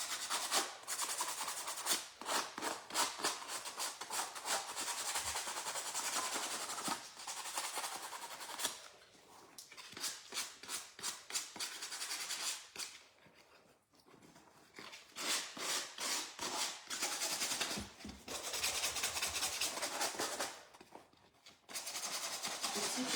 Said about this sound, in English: I'm just going to give it a light sand.